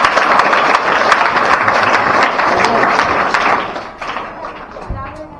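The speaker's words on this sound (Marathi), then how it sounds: "एकदा जोरदार टाळ्या वाजवा" An audience at a public speech event breaks into applause, a dense burst of clapping with a loud voice over it that tapers off toward the end, followed by a low thump.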